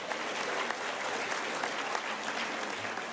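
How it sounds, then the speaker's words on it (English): An audience at a club luncheon talk applauds, a dense steady patter of many hands clapping throughout the short stretch, fairly quiet and with no one speaking. "That deserves applause, right?"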